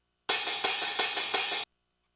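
A hi-hat drum loop plays alone for about 1.4 seconds, its bright, crisp hits pulsing at a steady rhythm with regular accents, loud and close, and then it stops dead.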